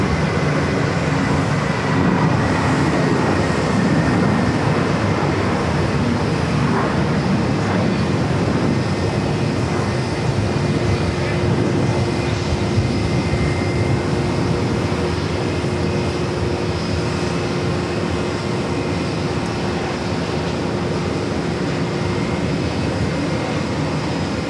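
A JetBlue Airbus A320 jet takes off at JFK with a continuous, loud engine roar that fills the whole span at a steady level, with no voices over it.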